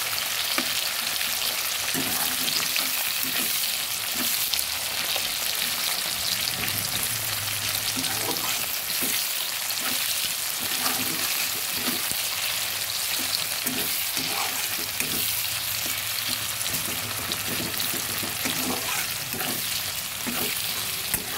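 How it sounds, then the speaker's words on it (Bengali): Two large onions fry in hot oil in a pan for mutton kasa, giving a dense, constant sizzle with occasional stirring scrapes, close and loud throughout. "দিয়ে দিলাম বড় সাইজের দুটো পেঁয়াজ। আর ভালো করে ভেজে নেব।"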